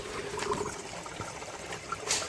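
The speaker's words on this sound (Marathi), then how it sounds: "इकडे बघू शकता पाण्याचा आवाज येतोय म्हणजे खालून पाणी आता जमिनीतून येतोय." Water trickles up out of the ground at the foot of a slope in dense forest near Vadshet Vave village, a faint continuous gurgling dribble close by.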